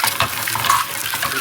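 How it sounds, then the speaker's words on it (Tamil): Eggs frying in ghee in a pan for homemade chicken biryani, with a steady close sizzle and light stirring scrapes running throughout, no talking. "முட்டையை ட்ரை பண்ணுறோம் நம்ம பிரியாணிக்கு"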